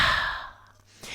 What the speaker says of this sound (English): a few rounds of lion breath, breathing in through the nose, exhaling through the mouth